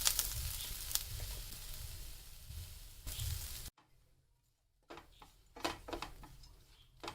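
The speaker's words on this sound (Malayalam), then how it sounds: "ഇതിലോട്ട് ഒരു 1/2 കപ്പ് തേങ്ങ അതും കൂടി ആഡ് ചെയ്ത് കൊടുത്തിട്ട് നന്നായിട്ട് ബ്രൗൺ ഷെയ്ഡ് ആവണ വരെ നമുക്ക് ഇളക്കി കൊടുക്കാം" Grated coconut fries with green chilli and curry leaves in a pan, a soft hiss and sizzle with stirring scrapes, pausing briefly into near silence before quieter stirring clatters resume.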